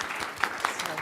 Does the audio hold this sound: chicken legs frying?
no